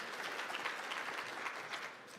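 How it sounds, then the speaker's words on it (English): Steady audience applause at a live National Forum for Black Public Administrators event, a soft, even patter of many hands from a distance, continuing without a break and with no voices above it. "Oh yeah, clap it up"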